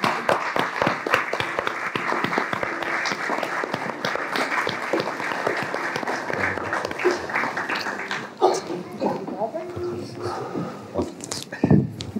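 An audience at a stage event applauds as guests walk on, with sustained crowd clapping that thins out partway through into scattered claps, then a few louder claps near the end. Voices murmur underneath.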